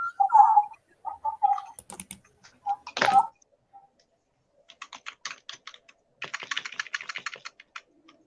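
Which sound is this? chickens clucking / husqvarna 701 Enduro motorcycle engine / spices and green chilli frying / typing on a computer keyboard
typing on a computer keyboard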